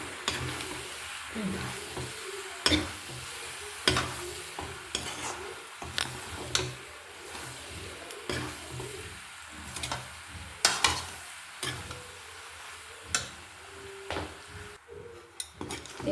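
Pasta being stirred and mixed in a pan at home, with repeated scraping and clattering strokes over a soft sizzle, close and moderately loud with irregular rhythm and no talking.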